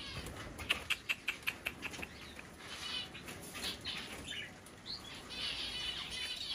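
A bird flaps its wings in a rapid burst of soft beats, followed by faint chirps and rustling against steady outdoor background noise.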